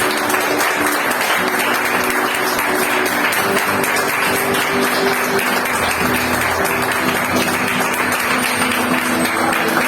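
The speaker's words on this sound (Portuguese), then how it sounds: "Queria que você desse a sua melhor salva de palmas para Jesus, por favor." A church congregation at a Sunday service applauds for Jesus, continuous loud clapping from many hands filling the room evenly for the whole stretch.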